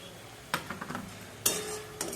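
In a pan of fig curry, a spoon clinks and scrapes in a few sharp, separate strokes over a faint sizzle as garam masala paste is stirred in.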